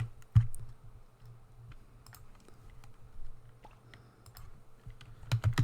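Keys on a computer keyboard are typed in irregular bursts of soft clicks and taps with a few louder strikes, close and steady over a low background hum, with no speech.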